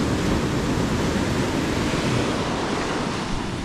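Sea waves surge at a beach by a Bucana resort in a steady, loud, close roar of surf and wash that runs unbroken with no voices.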